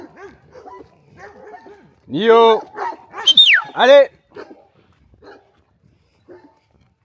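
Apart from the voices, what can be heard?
dog barking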